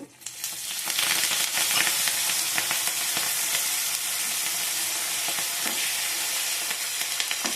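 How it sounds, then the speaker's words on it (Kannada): Curry leaves crackle and splutter in hot oil for a Kannada-style tempering for mixed greens massoppu saaru, a dense, steady sizzle with sharp pops throughout, close and loud with no talking. "ಯಾವಾಗ ಹತ್ರನೇ ಇದೆ ಸಿಡಿತದೆ ಸ್ವಲ್ಪ ದೂರ ಇಡಿ"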